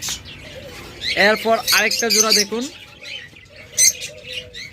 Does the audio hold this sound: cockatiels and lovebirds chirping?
yes